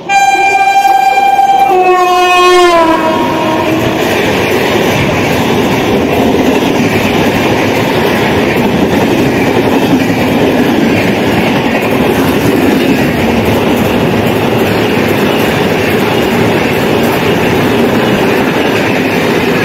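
A loud train horn sounds briefly, then the Purvanchal Express, a heavy train, roars past nearby through a station without stopping, with a steady rushing rumble and rattling wheels.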